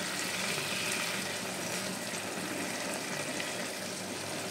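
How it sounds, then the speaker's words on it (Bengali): Steady, dense bubbling and hissing of a bottle gourd and prawn curry boiling hard in a pan, close by and continuous, with no voices. "দেখো কত জোরে জোরে ফুটছে এটা।"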